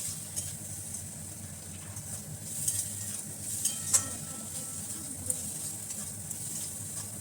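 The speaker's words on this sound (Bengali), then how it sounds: "যতক্ষণ না এবার হচ্ছে এই রসুনের এবার আর হচ্ছে আদা ভাজার গন্ধটা যত না সুন্দরভাবে আসে ততক্ষণ অবধি এবার নাড়তে থাকবে" Garlic and ginger sizzling softly in a pan while being stirred, a low continuous fry with scattered light scrapes and clinks of the spatula against the pan.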